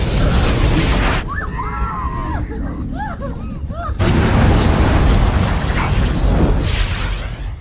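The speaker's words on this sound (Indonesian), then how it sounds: "terjadilah sebuah ledakan yang membunuh semua militer yang berada di sana" Explosion in The First Purge film, a loud deep boom bursting in after a stretch of quieter sound with whistling tones, followed by sustained roaring rumble.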